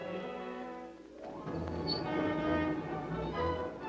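A train travels along the rails with a loud, continuous rumble and rhythmic clatter of wheels, a horn-like tonal note sounding at the start before the rolling noise swells.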